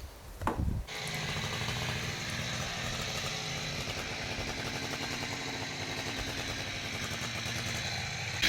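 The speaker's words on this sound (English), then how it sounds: "The stump grinding's actually going pretty well." Stump grinder chewing through a rotten, crumbly tree stump, a loud steady mechanical roar with gritty chipping clatter that starts after a brief burst and holds constant, close by with no talking.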